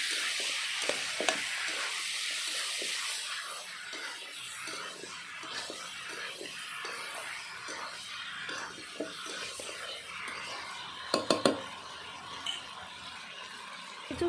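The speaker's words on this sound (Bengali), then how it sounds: "এখন আবারও ভালো করে নাড়িয়ে চাড়িয়ে মিশিয়ে নেব।" Desi chicken meat being stirred and mixed in a pan, a steady frying sizzle with repeated scraping strokes of the spoon, close and moderately loud, with a few sharper clinks near the end.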